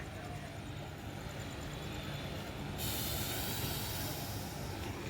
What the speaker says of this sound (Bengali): দাঁড়িয়ে পড়ছে ট্রেনটা